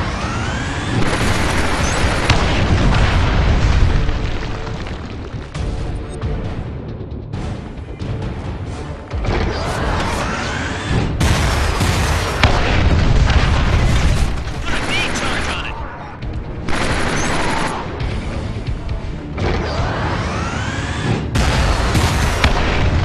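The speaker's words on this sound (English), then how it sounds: "the tank fire in the first level" A tank cannon fires in the first level of the video game Killzone Mercenary, heavy booming blasts and rumbling mechanical layers repeating over about twenty seconds, loud and dense, with a voice talking over parts of it.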